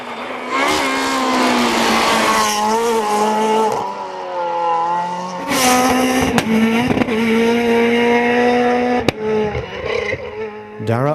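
Front-wheel drive rally cars race on a stage of the 2010 Galway International Rally, engines screaming loud and close through repeated gear changes, with sharp bursts of revving and tyre noise.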